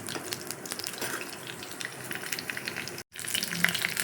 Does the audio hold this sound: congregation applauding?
no